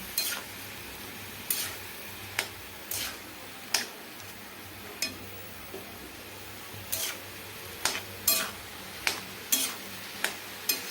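Chopped eggplant stir-fried in a pan, with a faint low sizzle under repeated sharp spatula scrapes and taps at an irregular pace, close and fairly quiet, no talking.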